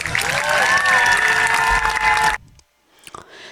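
Festival crowd applauding and cheering after a Viking battle show at the Icelandic Festival in Gimli, Manitoba, a loud burst of clapping and voices that cuts off abruptly after about two seconds.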